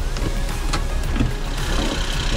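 A Suzuki Every wagon's P6A 660cc, 64-horsepower three-cylinder engine idles nearby, a steady low rumble with light mechanical clatter and a few sharp ticks throughout.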